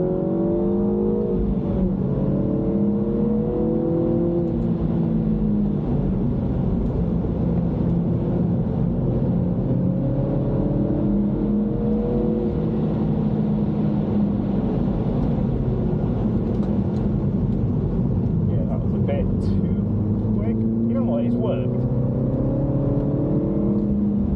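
A MINI F56 Cooper S on a track day drives through a hairpin, its engine rising and falling in pitch as it auto rev-matches on downshifts, all under steady in-cabin road and wind roar.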